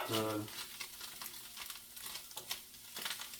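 Sausage meat and flour frying in pan drippings for sausage gravy, a soft steady sizzle broken by scraping stirs, with a voice speaking briefly at the start.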